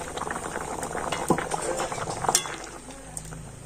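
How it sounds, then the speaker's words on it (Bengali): Potatoes bubbling away in a covered pot, a steady close boil with soft popping bursts and a low watery rumble, heard alone with no voices. "দেখুন আলুটা কিন্তু খুব ভালো মতো সিদ্ধ হয়ে গিয়েছে"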